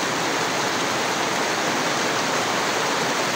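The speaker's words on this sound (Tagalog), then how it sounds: "ganyan yung gusto kong ulan." Heavy rain pours down steadily at a rural home with a muddy yard, a dense, unbroken roar of water with no voices heard over it.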